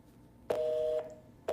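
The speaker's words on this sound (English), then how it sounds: "his phone number is busy, so I'm gonna double dial again" A steady electronic telephone dialing tone on a call to a busy line sounds for about half a second, followed shortly by the start of another identical tone.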